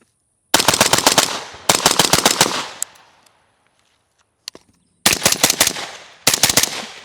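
Suppressed LMT rifle firing PMC Bronze .223 through a B&T RBS Compact suppressor outdoors: four loud, close bursts of rapid shots, separated by short pauses, with no talking.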